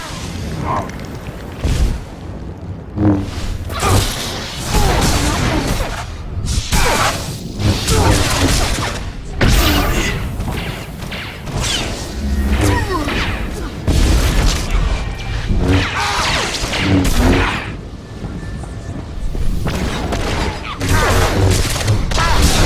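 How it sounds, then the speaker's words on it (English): A prototype blaster firing in battle in the game SWTOR, heard as loud, dense bursts of booming energy shots and impacts that run continuously throughout, with voices mixed in among the combat noise. "This blaster is the prototype, powered by the smallest Siantite battery. You're about to see just how lethal it is."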